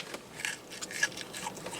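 Someone bites into a crunchy Arby's chicken nugget, giving a quick series of close, dry crunching snaps with no talking.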